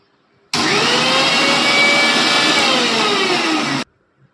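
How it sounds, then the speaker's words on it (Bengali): A mixer grinder whirs steadily for about three seconds while blending yogurt for a reduced-sugar lassi, with a loud, even motor drone and a slight pitch drift, starting and stopping abruptly, with no talk. "চলুন একবার মিক্সিটা ঘুরিয়ে নিই।"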